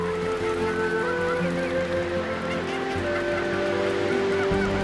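A large flock of Baikal teal takes off together over Sapgyo Lake at dusk, making a loud, dense, unbroken wash of calls and wingbeats throughout.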